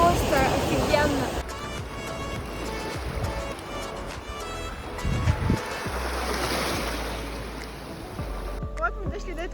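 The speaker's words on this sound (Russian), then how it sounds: "огромные волны, вы сами сейчас увидите" Large waves break and wash on a warm seashore, rolling surf and wind rushing over the microphone, with someone talking over the roar.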